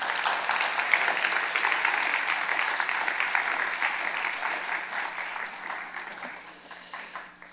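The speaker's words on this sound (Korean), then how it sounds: "우리 박수로 환영하도록 하겠습니다" A church congregation claps steadily to welcome a pastor at a Bible conference service, dense even applause that fades slightly toward the end, with no talk over it.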